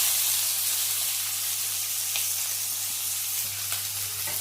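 Mustard seeds, cumin, curry leaves and onion sizzle in hot oil, a continuous close hiss with a few faint crackles and a low steady hum underneath, without any voices.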